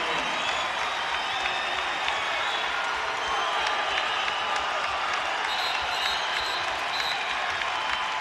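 Crowd noise fills a basketball arena during a Bradley Braves at Southern Illinois Salukis college game after a turnover, a steady broad roar of cheering and clapping that holds at one level from start to finish.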